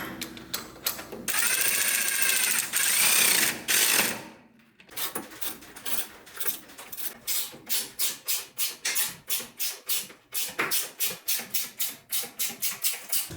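Bolts on a go-kart engine skid for a Jeep Wrangler-based rock crawler being tightened: a steady, loud mechanical whir first, then a close, even train of rapid ratcheting clicks repeating in a rhythmic pattern.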